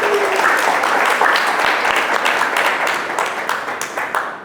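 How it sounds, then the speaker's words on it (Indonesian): A church congregation applauds together, a loud, dense wash of clapping that holds steady and then slowly thins toward the end. "Kasih tepuk tangan, saudara."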